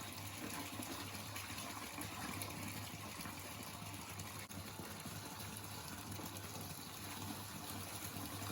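Water running steadily into a bath at home, a constant, faint rushing flow with no breaks, heard alone.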